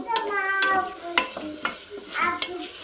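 Cardamom, cloves and cumin frying in hot oil in a pan, a steady close sizzle broken by several sharp scraping stirs of a spoon against the metal.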